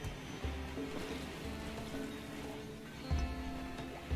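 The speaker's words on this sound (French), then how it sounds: "4 jours de pluie toxique" Steady toxic rain falling in RimWorld, a dense, even wash of patter that holds at a constant level throughout, with no voices over it.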